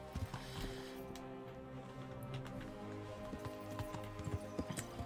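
Horse hooves clip-clop steadily at a riding pace in the video game Kingdom Come: Deliverance, a fairly quiet, continuous patter of hoofbeats with no talk over it.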